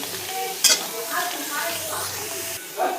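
Chillies sizzle and crackle in hot oil as they are stirred in a pan, with a voice speaking intermittently over the frying.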